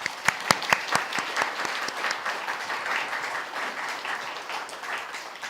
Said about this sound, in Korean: 오늘 영예로운 수상을 하신 수상자분들께 다시 한번 큰 박수를 부탁드리겠습니다.